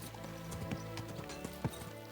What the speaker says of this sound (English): we will slow the horse as we go in here